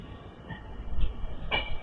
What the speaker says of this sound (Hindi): ट्रेन अपनी यहाँ से निकल चुकी है